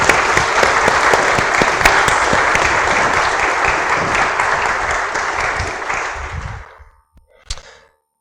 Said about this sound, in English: But let's give Fiona a big round of applause